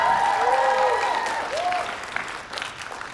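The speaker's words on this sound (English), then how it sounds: "please give Sarah and Honor a round of applause" Audience applause at a school arts festival performance, a steady wash of clapping that slowly thins out over a few seconds, with tonal whistle-like sweeps sounding above it.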